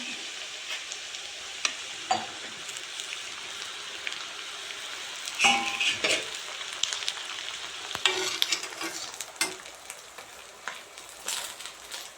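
Chopped chillies frying with softened ginger and garlic in a pan for a lemon, ginger and chilli pickle, a steady crackling sizzle with occasional louder spatters and spoon scrapes, close and alone.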